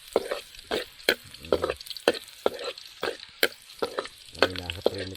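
Garlic sizzles in a pan while a utensil repeatedly scrapes and clanks against the metal, the sharp stirring knocks standing out over a quieter frying hiss, close by and with no speech.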